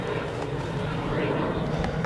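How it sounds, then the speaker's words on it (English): Steady broadband rumble of an airplane passing overhead mixed with gusting wind buffeting the microphone outdoors during house plant repotting, continuous and fairly loud throughout with no speech. "sorry about the plane and the wind"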